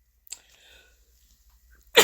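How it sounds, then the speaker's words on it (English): A single close sneeze bursts out at the very end, preceded by a faint sharp intake and quiet rustling. "I had to duck and sneeze."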